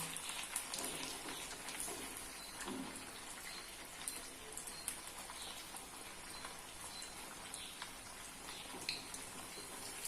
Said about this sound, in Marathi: आणि छान असं तांबूस रंग येईपर्यंत हे दोन्ही बाजूने भाजून घेऊया.